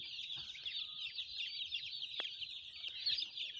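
Chickens in a poultry shed bedded with rice husks cluck softly and intermittently over a steady, high, hissing background.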